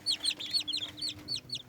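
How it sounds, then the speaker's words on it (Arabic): Young chicks peep in a quick series of thin, high chirps, close by and fairly soft, over a low background hum. "هي كتكوت عندي"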